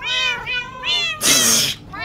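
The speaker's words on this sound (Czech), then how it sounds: "Kočky, který zpívají." Several cats meowing in the Minecraft video game, a series of drawn-out, close, loud meows one after another, with a rougher burst in the middle.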